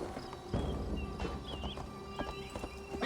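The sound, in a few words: horse hooves while riding, video game Assassin's Creed Valhalla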